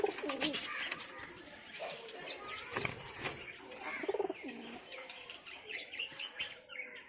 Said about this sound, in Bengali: আর পায়রাগুলো ঢুকে গেছে খোপে